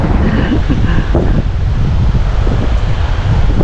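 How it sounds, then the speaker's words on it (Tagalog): Loud, continuous roar of strong ocean surf and wind at Apolagan, with waves crashing heavily and constant wind buffeting the microphone. "Lalakas pa rin ng alon."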